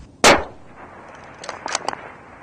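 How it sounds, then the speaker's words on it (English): One sharp, loud rifle shot from a sniper in Afghanistan rings out and quickly decays, followed by a few fainter metallic clicks and rattles of the weapon. "He went down on the first shot."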